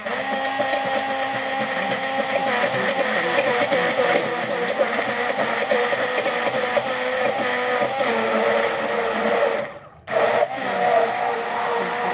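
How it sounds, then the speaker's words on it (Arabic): A steady, loud motorized whir of an electric blender grinding persimmon runs continuously, with a brief cut-out near the end before the motor resumes. "هنا كنت مشيت نجيب هاد الخلاط هذا."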